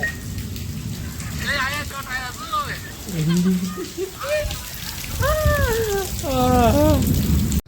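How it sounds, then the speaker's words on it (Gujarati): Steady heavy rain hisses throughout while voices speak and sing expressively over it. "વરસાદ થઈ ગયો તારે લાવ્યો તો ફૂલે ફૂલ વરસાદ આવ્યો"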